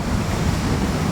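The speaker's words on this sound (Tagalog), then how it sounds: "malakas yung alon" Rough sea waves washing heavily beside a tilted barge loaded with stone, a continuous loud surf roar mixed with wind noise for the full moment, with no voices.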